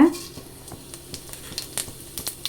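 Cumin seeds hit hot oil, giving a soft steady sizzle with scattered faint crackles and pops over a couple of seconds, close by and fairly quiet.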